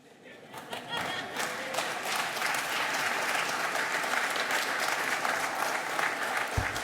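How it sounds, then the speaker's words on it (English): Graduates at a school commencement burst into sustained applause for their families, building quickly and holding steady as a dense crowd of clapping with a few cheers, a low thump near the end. "I want you to applaud all the people that are here for you today"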